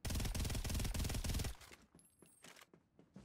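AK rifle firing in Farlight 84 with an MF-18 attachment, a loud sustained automatic burst of about a second and a half, then quieter scattered in-game noises.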